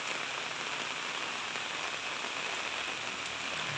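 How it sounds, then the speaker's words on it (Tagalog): Heavy rain pours steadily and densely onto surfaces outdoors, a constant loud hiss with no pauses and no voices. "Sobrang lakas ng ulan."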